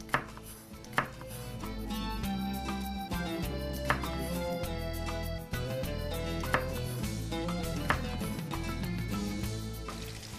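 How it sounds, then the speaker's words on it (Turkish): Knife chopping tomatoes on a cutting board, a handful of sharp isolated strikes over steady kitchen background noise with music-like tones. "Domatesleri doğrayalım."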